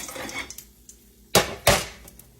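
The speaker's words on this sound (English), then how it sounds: "Let me get me another plate." A plate is set down with two sharp, loud clatters of crockery in a home kitchen, after some faint rustling and handling noises; no one speaks.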